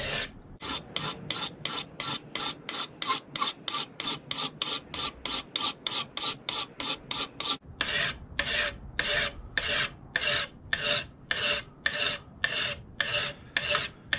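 A metal file rasps steadily across a horseshoe knife blade in rapid, even back-and-forth strokes, loud and close, speeding up slightly partway through.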